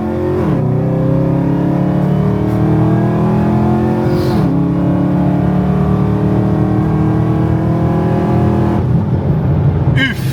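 A Chevrolet Camaro ZL1 launches at a drag night, its tires losing grip. The engine roars loud and close, climbing in pitch through repeated rising sweeps with brief breaks between gears, under a steady noisy rumble.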